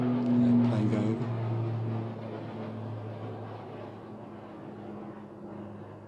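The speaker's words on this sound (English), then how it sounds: "Let the plane go over." An airplane passes overhead during an outdoor morning prayer, a low droning rumble that is loudest at first and then slowly fades as it moves away.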